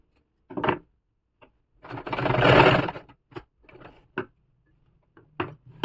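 A sewing machine stitches half-inch piping onto the slit of a kurti in a quiet room: a burst of rapid stitching lasting about a second, with scattered clicks and short mechanical taps around it.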